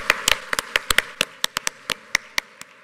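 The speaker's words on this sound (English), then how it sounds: "Round of applause for our volunteers" A few people clap briefly, scattered sharp hand claps in an uneven rhythm that quickly thin out, without cheering.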